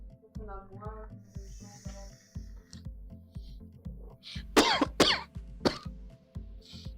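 A few harsh, breathy coughs from vaping burst out near the middle, rough and close, over a steady low rhythmic hum with some talk around them.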